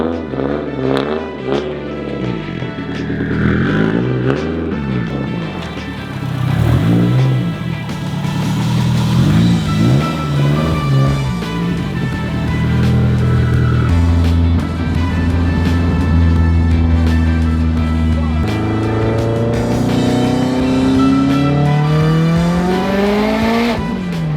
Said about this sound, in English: let me get the WRX warmed up